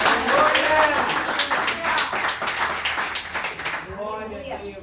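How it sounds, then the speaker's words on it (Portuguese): A church congregation claps steadily for a few seconds, the sharp claps dense and loud, then thinning out as a voice begins speaking near the end. "Você pode aplaudir ao Senhor com o seu melhor."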